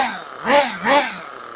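A Losi 3.4 nitro engine in an RC truck idles with a buzzy whine, then gives two quick, loud throttle blips before settling back to idle.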